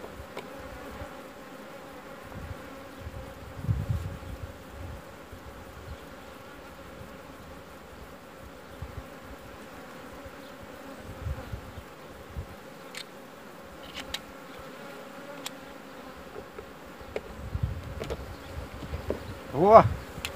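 Honeybees pour out of a hive entrance during the merging of a swarm with a split colony, a dense continuous buzzing drone for about twenty seconds, swelling louder near the end with occasional close passes.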